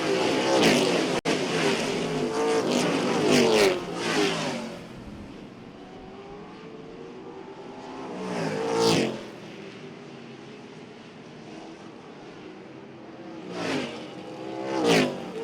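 Race cars roar past on the short oval at Jefferson Speedway, engines loud and close in a heavy burst, then fading before more cars sweep by in repeated passes.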